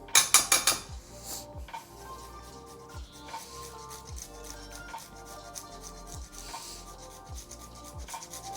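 Parmesan is added generously in a home kitchen, heard as a few quick clinks and then a run of rhythmic rubbing, scraping strokes, close and fairly quiet.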